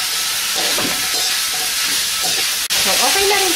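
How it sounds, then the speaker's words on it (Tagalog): Carrots sautéing in a hot pan with pork and chicken: a loud, continuous frying sizzle with intermittent stirring scrapes and a brief dip near the end, no talking. "Unahin natin yung ating carrots kasi medyo matigas ito. So, igisa lang natin ito for a few minutes."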